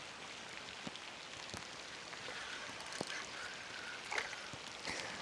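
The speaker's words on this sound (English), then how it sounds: "This rain is getting too bad for me right now." Steady rain pattering on water and nearby surfaces on a fishing outing outdoors, a continuous close hiss broken by scattered heavier drips and small splashes.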